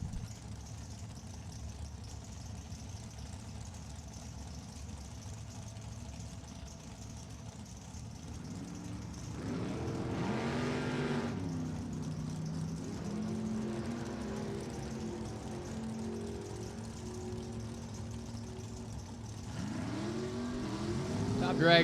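Drag racing at Virginia Motorsports Park with a Ford and a 538 cubic inch Chevrolet Monza: a quiet idle rumble, then engines revving up loudly in bursts, fading, and rising again at the end, with a commentator talking.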